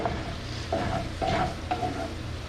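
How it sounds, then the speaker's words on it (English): Crumbled tofu scramble with spices is worked around a hot pan, a soft continuous sizzle with repeated rhythmic scraping strokes of the utensil across the pan, close and clear. "But we just want to work it around and incorporate all those spices in."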